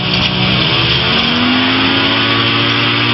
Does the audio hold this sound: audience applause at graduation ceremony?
no